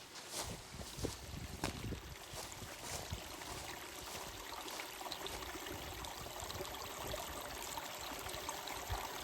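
River water flowing in the Scottish mountains, a steady broadband rush with small splashy gurgles, close and continuous, no voices.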